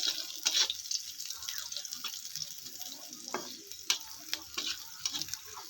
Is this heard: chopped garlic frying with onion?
yes